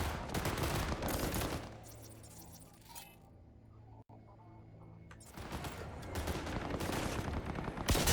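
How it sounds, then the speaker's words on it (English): Bursts of gunfire in the Cyberpunk video game, loud dense volleys at the start and end with a quieter lull between, a single sharp crack in the middle. "What are y'all shooting at?"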